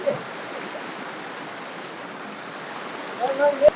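Water flows steadily in a stream, a soft, continuous rushing wash at moderate distance with a brief voice near the end.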